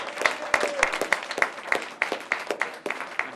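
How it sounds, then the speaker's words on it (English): A community fund gathering breaks into fairly sparse applause, with individual claps standing out in an uneven rhythm, moderately close and without speech over them. "So if we can give Desiree and the Community Foundation a round of applause,"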